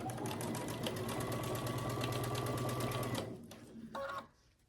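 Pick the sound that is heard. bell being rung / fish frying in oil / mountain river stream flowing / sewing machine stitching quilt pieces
sewing machine stitching quilt pieces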